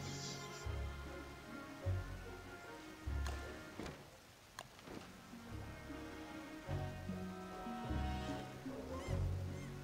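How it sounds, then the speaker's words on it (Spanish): Black birds land in the Don't Starve Shipwrecked video game, heard as repeated low honking, goose-like calls in short bursts over a quiet ambient background, with a couple of sharp swooping accents in the middle. "solamente era esos pájaros negros bajando"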